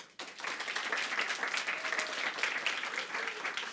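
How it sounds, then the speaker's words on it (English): An audience at a startup demo day applauds the teams, a steady sustained wash of clapping filling the whole stretch with no talk over it. "let's give them a big applause for today"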